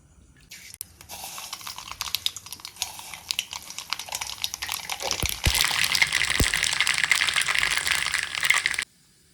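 Mustard seeds splutter and crackle in hot Gold Winner oil in a pan while a North Indian style hog plum pickle is cooked, a dense close sizzle of rapid pops that swells louder midway and then stops abruptly.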